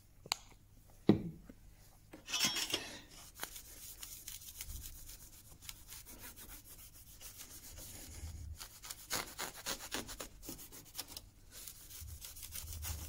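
Camellia oil is rubbed onto a rusty Japanese saw blade as grime comes off, giving soft, quiet, irregular rubbing strokes with a few sharper scrapes.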